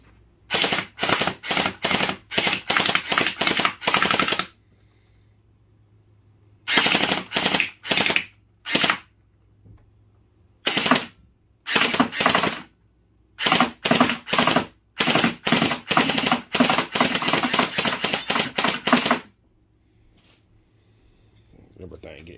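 An HT Mini M4 Raptor gel blaster fires in rapid full-auto bursts, loud and close, with sharp repeated cracks broken by short pauses between strings of shots. No one speaks.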